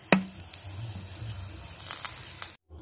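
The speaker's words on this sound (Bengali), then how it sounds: "এটাও কিছুটা তেল দিয়ে দেব, দিয়ে এটাও একই রকমভাবে ভেজে নিচ্ছি" Food frying in a shallow layer of oil, a close, soft, steady sizzle with a sharp initial sputter and light crackles, ending abruptly.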